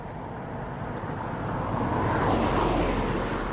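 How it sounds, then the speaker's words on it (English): A car approaches along a road behind someone out on a cold-weather walk. It comes in as a soft, steady rush of tyre and engine noise that swells slightly midway, blended with breezy wind on the microphone. "I can hear a car coming down behind me."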